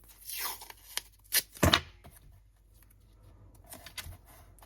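Strips of tape are ripped from a roll while a folio journal cover is being made: a few short, sharp tearing bursts near the start, followed by quiet handling sounds.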